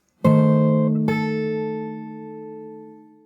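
Two fingerstyle acoustic guitar chords from the Animal Crossing New Horizons theme ring out, the second struck about a second after the first and left to sustain and slowly fade.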